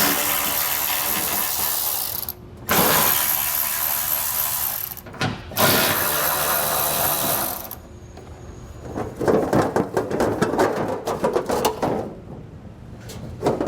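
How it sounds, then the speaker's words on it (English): Ratchet wrench with an 8mm socket loosening heat shield nuts under a 2021 Mercedes during a trailer hitch install, heard as bursts of steady ratcheting clicks broken by short pauses, then more irregular, clattering turns near the end. "Then we're going to take an 8mm socket. We're going to remove all the nuts that are holding our heat shield in place."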